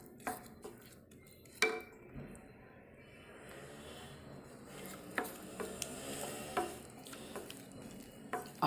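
Fried Maggi noodle manchurian pieces tumbled into a pan and stirred, with scraping utensil clicks and soft clatter over a low, steady sizzle, fairly quiet and close.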